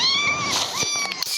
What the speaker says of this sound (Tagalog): ang dami pusa sa likod niya